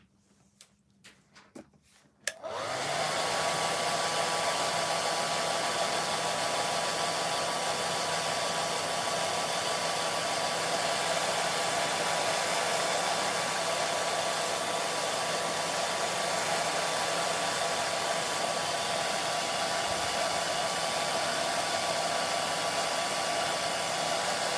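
A hair dryer runs steadily and loudly while drying an interior scale model, switching on after a couple of seconds of faint handling noise and holding a constant whir throughout.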